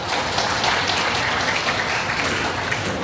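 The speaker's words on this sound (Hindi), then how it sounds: "धृतराष्ट्र के लिए एक बार ताली बजा दीजिए आप।" An audience at a spiritual discourse during a jubilee celebration in Vadodara claps together in a steady, dense wash of applause that holds at an even level for about three seconds, with no voices over it.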